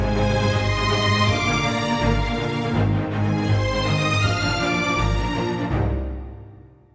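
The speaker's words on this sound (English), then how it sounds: "I'm using the violins to highlight those two chords with this almost arpeggio-like figure." Orchestral strings play a rolling, almost arpeggio-like figure outlining two chords, full and sustained with a warm low end, steady loudness throughout before fading out over the final second.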